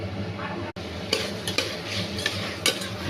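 A spoon scrapes and clinks against a pot while marinated mutton and tomato are stirred, several sharp metallic taps over a low sizzling background, close by.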